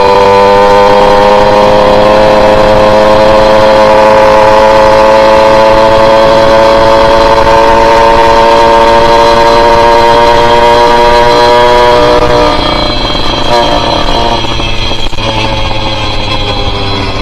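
A Tomos Flexer moped engine while riding, a loud steady buzzing drone held close throughout, pitch easing slightly before dropping around the end, with no talking over it.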